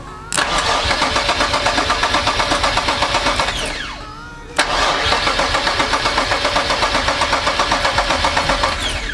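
Q60 engine swapped into a Nissan 370z being cranked on a first-start attempt: two long bursts of rapid rhythmic starter churning, loud and close, separated by a short pause, without catching.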